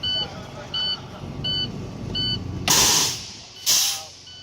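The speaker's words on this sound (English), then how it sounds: "Push in the parking brake and release" A truck's air parking brake is released in two loud, sharp hisses of escaping air, following a run of repeated electronic beeps over an idling engine rumble.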